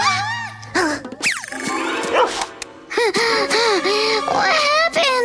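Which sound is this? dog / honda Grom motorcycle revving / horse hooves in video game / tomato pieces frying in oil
dog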